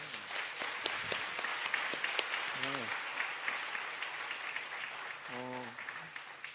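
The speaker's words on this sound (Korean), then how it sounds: "다시 한번 박수 한번 주실래요?" Applause from a congregation at a church retreat runs steadily throughout, fairly quiet and distant, with a few brief spoken voices rising over it.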